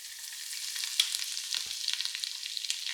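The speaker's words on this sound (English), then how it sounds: "Once the sugar is just starting to get frothy, I can go in with a tablespoon and a half of chopped garlic." Chopped garlic sizzles and fries in frothy caramelizing brown sugar and fat in a pot for Jamaican oxtail, a steady close crackle with brief stirring scrapes and no voices.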